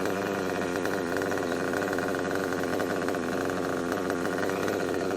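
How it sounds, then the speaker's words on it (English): A tuned nitro engine idling steadily, a loud, continuous buzzing drone with a fast, even pulse that holds for several seconds without pause. "I'm going to back the idle screw out just a touch because I'm getting the idle picked up just a little bit from leaning it out"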